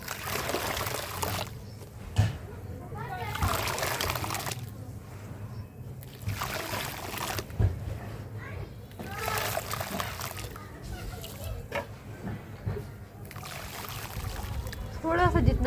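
Water is stirred into a black charcoal texture paste, giving repeated wet splashing and slopping bursts in an indoor setting, with someone talking over much of the mixing.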